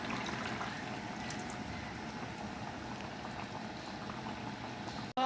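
Taro corms boil in a pot of curry broth, giving a steady, close bubbling simmer that runs unbroken before a brief clatter at the very end.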